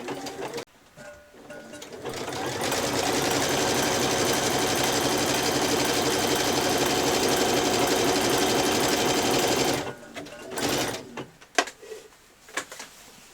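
A sewing machine overcasts a seam edge on a child's dress, running steadily and loudly for about eight seconds before stopping, followed by a few handling clicks.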